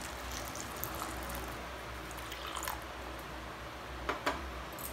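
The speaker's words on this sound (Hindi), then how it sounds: "अब हम इसमें 1/2 ग्लास पानी डाल देंगे।" Half a glass of water is poured into thick sugar syrup simmering on a stove, giving a steady close liquid hiss and bubbling with a few brief drips and splashes near the end.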